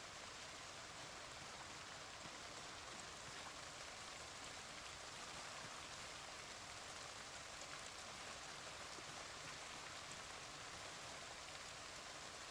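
Steady rain in Project Zomboid hisses as a constant, even wash of noise with no breaks, moderately loud and unaccompanied by voices.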